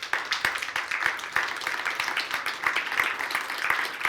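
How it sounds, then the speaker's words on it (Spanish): A church congregation claps during a sermon, a steady, brisk patter of many hands with sharp individual claps popping out, moderately close and sustained throughout. "Alguien dele un aplauso fuerte al Señor."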